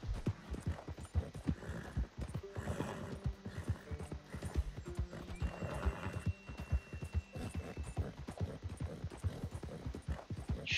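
Horse hooves clip-clop steadily during a ride in the video game Red Dead Redemption 2, with a brief whinny-like cue and game ambience around the continuous hoofbeats.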